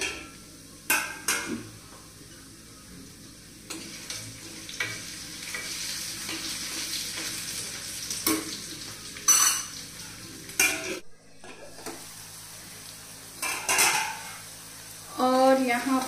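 Potatoes cook in a pan over a low flame, with a gentle sizzle under repeated scrapes and clinks of a spoon against the metal pan, in bursts and pauses.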